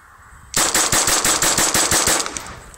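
A pistol firing Federal bulk ammunition in a rapid, steady string of about a dozen sharp, loud shots, close by, with no talking.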